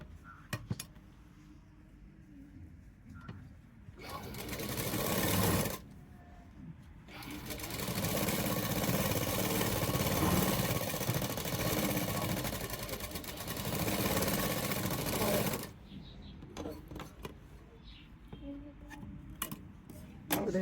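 A sewing machine stitches a sleeve onto fabric and lining in a tailoring job, whirring in long continuous runs with short pauses between them and lighter clatter in the quiet gaps.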